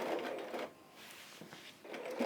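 A sewing machine stitches quilting lines on a Dresden Plate quilt block, running in close bursts of rapid mechanical whirring with brief pauses between runs.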